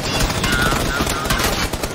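Rapid automatic gunfire in a video game, a dense continuous burst of shots that stays loud and close for the whole stretch without pause.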